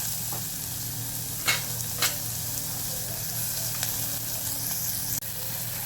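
Carrot, tomato and mixed vegetables fry in ghee for an oats khichdi, giving a steady close sizzle with a few sharp stirring scrapes and a knock near the end, no voices.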